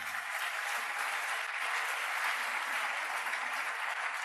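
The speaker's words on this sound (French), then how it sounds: "Acclamons le Seigneur." A church congregation applauds together, a dense, even wash of clapping that holds steady throughout, moderately distant and without a break.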